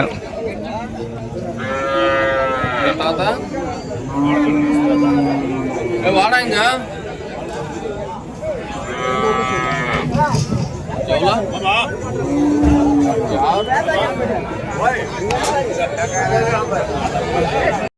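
Cattle and bulls at a livestock market in Krishnagiri district moo repeatedly, with several loud calls rising over a constant crowd hubbub of chatter and people talking throughout.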